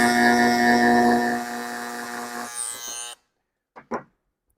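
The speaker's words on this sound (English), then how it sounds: "So got this old-fashioned Dremel here that I've had forever, and let's make a mark on here" An old Dremel rotary tool whines at high speed while marking a part from a Rotax 582 engine's Mikuni fuel pump. The tone drops as the tool spins down, then cuts off, and two brief knocks follow.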